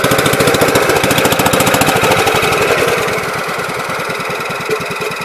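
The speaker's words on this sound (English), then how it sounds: "I'll probably try and start it here. Throw a little bit of gas in it, see what happens." Old tractor engine idling just after being started, a loud close rapid knocking chug that settles slightly lower and steadier partway through.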